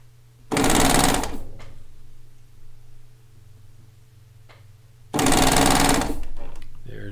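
A serger runs in two short, loud bursts of about a second each, separated by several seconds of quiet, while a kimono is being sewn.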